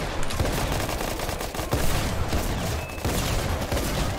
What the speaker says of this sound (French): Il y a des mecs qui tirent des flashs à côté.